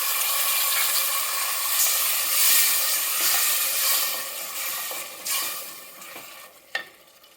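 A tadka sizzles and crackles steadily in the pan as tomato paste is stirred in, a dense, bright frying hiss with small pops and stirring scrapes that eases off toward the end.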